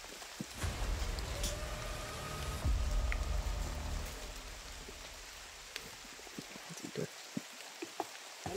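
Steady rain falling outdoors, a dense hiss of drops that thins out toward the end into scattered individual drips and taps on surfaces.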